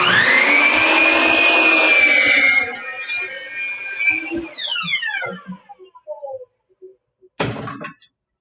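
A power saw cuts across a 48-inch wooden board, a loud steady whine for a few seconds that winds down into rattles and clunks, ending with a sharp knock as the piece drops.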